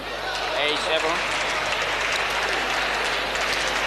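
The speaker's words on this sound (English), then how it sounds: "No wonder the crowds are appreciating her and applauding her on." A crowd applauds steadily through a 1990 Asian Games women's singles badminton semifinal, broad, even clapping that fills the hall without a break.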